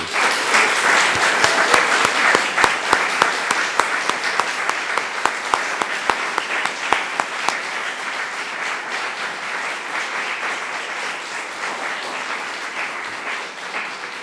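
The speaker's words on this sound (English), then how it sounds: "Please give them a round of applause." A ceremony audience applauds the recipients of the 2021 Order of Prince Edward Island at an investiture, with sustained full-room clapping and sharp individual claps standing out, gradually easing off toward the end.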